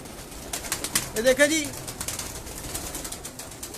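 Pigeons cooing at a breeder's loft in Lahore, a few soft low coos clustered in the middle with faint wing rustles, while someone speaks briefly nearby.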